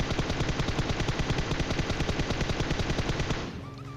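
A PUBG Mobile player fires automatic gunfire at a vehicle. A loud, close, sustained burst of rapid evenly spaced shots runs for about three and a half seconds, then stops and leaves fainter game sounds.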